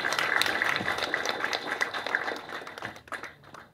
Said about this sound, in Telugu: and a big clap for them